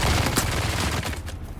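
Shielded heavy gunners in Dune Awakening open fire in a dense burst of rapid shots that blur together, loud and steady, thinning out toward the end, with no talking.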